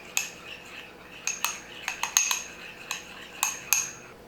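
A utensil clinks and scrapes against a bowl while sauce with chopped sweet pickles is stirred, giving a run of sharp, close metallic taps in irregular bursts with no voices.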